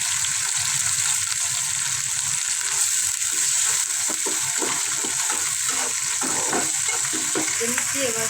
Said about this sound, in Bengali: পেঁয়াজ মরিচকে বাজিয়ে নিচ্ছি, এবার রসুন বাটা দিয়ে একদম আদা বাটা